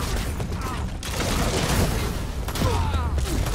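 Rapid gunfire in Nosgoth, close and loud, with bursts of shots and mechanical clicks running continuously through the moment in a busy game fight.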